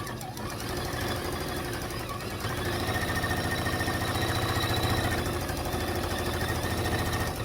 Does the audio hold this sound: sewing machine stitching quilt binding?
yes